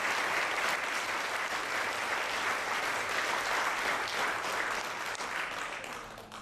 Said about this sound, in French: Et de grands applaudissements.